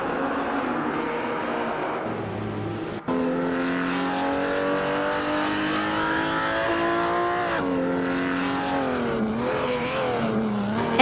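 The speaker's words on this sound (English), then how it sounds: "Elite 403 is driving the 1957 Ferrari 250 Testarossa, known for its classic design and powerful V12 engine" Racing-game engine audio of a 1957 Ferrari 250 Testarossa V12, a loud continuous high-pitched howl that climbs through the revs, drops abruptly at a gear change, then rises and wavers again, close and alone without talk.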